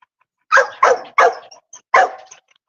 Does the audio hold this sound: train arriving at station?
no